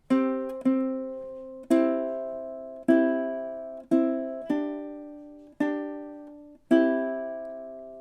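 A ukulele plays measures 12 and 13 of the Jamaican folk song Day-O (The Banana Boat Song) in a steady sequence of about eight bright strummed chords, each decaying before the next, with no voices.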